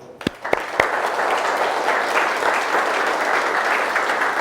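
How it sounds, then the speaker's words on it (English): An audience at a business awards event breaks into sustained applause, a few sharp early claps quickly swelling into a dense, even wash of clapping that holds steady to the end. "we can just give them a round of applause"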